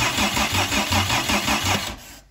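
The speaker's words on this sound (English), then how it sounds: "when I put the power to the signal wire to shoot out the starter, if I can get this right, you can see it there" A starter motor cranking a BMW E46 325 engine, a close rhythmic churning whir with regular pulses for about two seconds before it abruptly stops.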